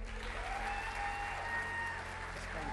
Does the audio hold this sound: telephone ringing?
no